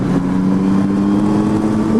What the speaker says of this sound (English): Look at the sound of this engine